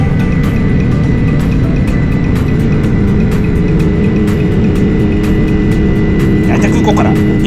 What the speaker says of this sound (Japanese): 離陸時の音声も入れておりますので、この後しばしナレーションも入れませんので、成田空港を離陸する様子をご覧いただければと思います。